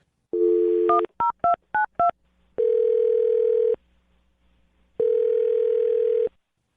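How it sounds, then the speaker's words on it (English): Telephone keypad tones from a phone number being dialed, a quick run of short beeps followed by two long steady dial-tone bursts, loud and close with no talking. "I'm going to dial her phone number right now"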